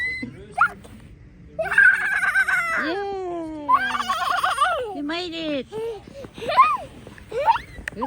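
Several crows and calls from a rooster among younger birds ring out close and loud, with drawn-out harmonic sweeps repeating across several seconds, along with other bird sounds.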